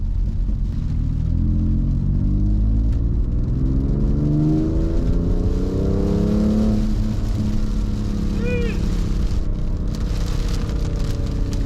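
A BMW sports car accelerates hard with its tires spinning, the engine note climbing steadily in pitch, loud and close over a constant rushing rumble from inside the car.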